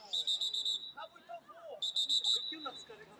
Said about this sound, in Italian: il signor Godino fischia per fare ricominciare il gioco.